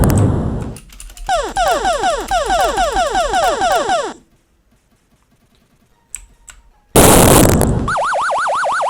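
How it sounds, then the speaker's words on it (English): A Python game on a Raspberry Pi plays loud electronic effects: a noisy burst, a run of rapid chirping warbles, a pause with small clicks, then a sharp crackly explosion burst followed by a looping wavering tone. "the explosion's a bit crackly"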